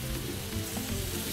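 Paella ingredients sizzling loudly in a hot pan, a dense continuous frying hiss with faint stirring underneath, close and uninterrupted.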